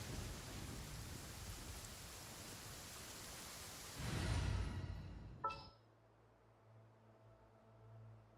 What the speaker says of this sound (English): The thunder's so loud.